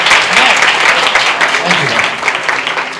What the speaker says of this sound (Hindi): जोर से हम ताली बजाएंगे, जोर से, जोर से।